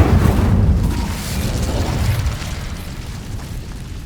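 The Incendio fire spell in Hogwarts Legacy goes off with a loud, deep whooshing burst that rumbles and then fades over a few seconds.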